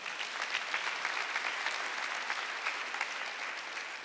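A church congregation applauds during a Korean Sunday worship service, producing a dense, steady wash of many hands clapping throughout. The sound is moderately distant, with no speech over it.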